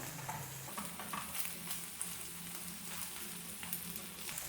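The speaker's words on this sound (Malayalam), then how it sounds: "പതുക്കെ അങ്ങനെ ഒന്ന് ഇളക്കി കൊടുക്കാം" Cabbage and egg stir fry sizzles steadily in a pan while being gently stirred, with soft scraping and light clatter over a constant frying hiss at moderate, close range.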